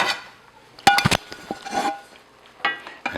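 Plates and dishes clink and clatter up close in a kitchen while Lebanese mjadara is served, a few sharp knocks followed by lighter scrapes and a later clatter.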